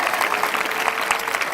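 A congregation at a Sunday evening ministry meeting claps in a steady, dense burst of applause, close and fairly loud, with no speech over it.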